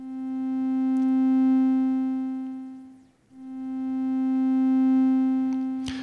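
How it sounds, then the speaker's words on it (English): A SOMA SimplexFM synthesizer with a looping envelope plays a buzzy, harmonic-rich sustained tone that swells and fades twice, dipping briefly to near silence between cycles, with faint clicks at points. "So it's kind of like a wobble sound, or sounds kind of like it's being modulated."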